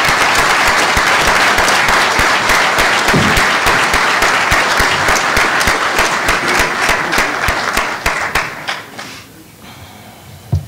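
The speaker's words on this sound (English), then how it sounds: "We have a round of applause for everyone." A convention hall audience at a general session breaks into sustained, loud clapping that carries on for about eight seconds, then thins out to a few scattered claps and fades.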